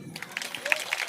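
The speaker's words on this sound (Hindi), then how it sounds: "बजाइए ताली" Brief scattered clapping from the crowd at a Shrimad Bhagwat Katha religious gathering in a village, a few distinct hand claps rising over a faint room murmur.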